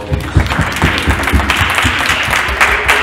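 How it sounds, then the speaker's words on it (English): An audience gives a round of applause at a gathering honoring the creators of a venue: close, loud clapping with distinct individual claps standing out in a quick, uneven rhythm, heard alone without voices. "Can we give a hand, round of applause?"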